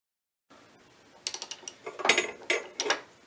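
A hand ratchet tightens the output-shaft nut on a Toyota Celica Alltrac GT-Four E153 transmission, clicking in quick, uneven bursts of metallic ratcheting after a moment of silence, close by and with no speech.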